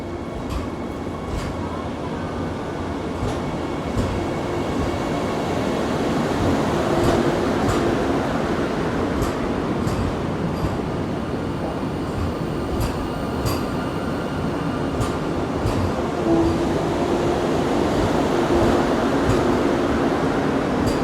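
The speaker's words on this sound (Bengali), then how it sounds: "সিগন্যাল কিন্তু হয়ে গেছে আর ট্রেন ছেড়ে দিল নিউ জলপাইগুড়ি থেকে" A Vande Bharat sleeper express pulls out of New Jalpaiguri station bound for Kamakhya, a steady, loud rail rumble with rolling wheel noise and faint clicks sustained throughout, no voices.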